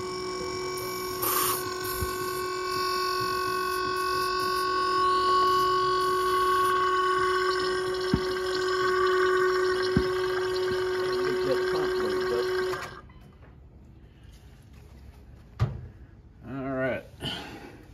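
An aftermarket FASS fuel pump on a 1999 Dodge Ram 3500 whirs in a steady electric hum for about twelve seconds, then stops, leaving faint clicks and handling noises.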